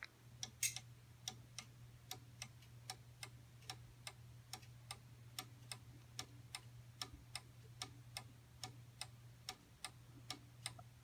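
An unbranded cuckoo clock ticks steadily in a quiet room, each crisp tick evenly spaced about half a second apart against a low mains hum, with no voices.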